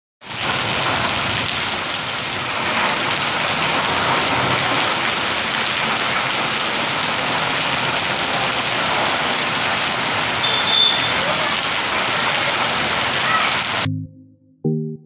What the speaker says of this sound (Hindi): समाचार लिखे जाने तक रिमझिम बरसात जारी रही।